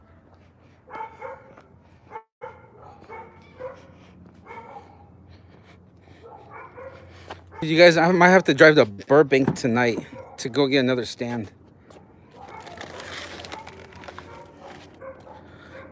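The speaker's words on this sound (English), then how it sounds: "Dogs are barking." Several dogs bark and yip in a burst, loud and close, while a person talks before and after.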